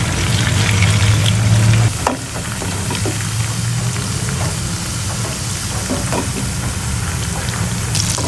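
Tofu frying in a pan gives a dense, loud, continuous sizzle with crackling pops and occasional stirring clinks, with no voices.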